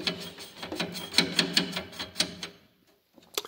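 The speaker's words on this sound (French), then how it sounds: "il faut les serrer avec une pince." Rapid metallic clicking and ratcheting of pliers tightening lock nuts on a car, a quick series of close taps that stops abruptly, followed by a brief clatter.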